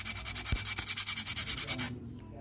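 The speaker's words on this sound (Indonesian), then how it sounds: "Jadi kita amplas dulu pakai amplas yang kasar" Rapid, rhythmic rasping strokes of coarse sandpaper rubbing on a 2012 Toyota Rush brake disc, about a dozen quick passes, then a sudden stop into near silence.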